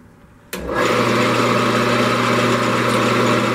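A wood lathe spins up a bowl blank mounted without a chuck, starting abruptly after a quiet moment and settling into a loud, steady motor hum.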